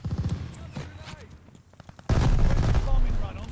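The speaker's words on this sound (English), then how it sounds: "Wow, that guy ran right into my grenade." A grenade blasts in a first-person shooter game amid bursts of gunfire; a loud sudden explosion hits about two seconds in and rumbles on, following a quieter stretch of scattered shots and background voices.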